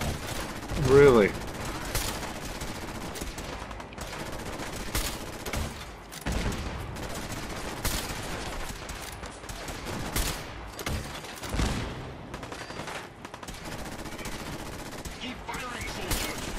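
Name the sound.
gunfire from the video game Fallout 4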